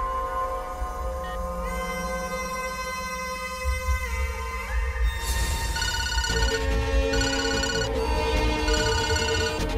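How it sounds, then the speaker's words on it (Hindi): A phone ringtone plays a repeating electronic melody, loud and close, shifting pitch partway through and continuing without pause. "ठीक है, शाह तुझे फोन करेगा।"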